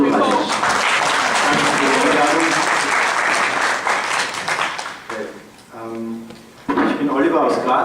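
Audience applause at a labour activists' forum, a dense, loud burst of clapping lasting about five seconds before thinning out, with speech breaking in and then more clapping resuming at the end.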